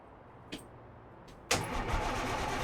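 A Caterpillar 3406E truck engine starts in American Truck Simulator, with a couple of faint clicks, then a sudden loud catch that settles into a steady, rough idle.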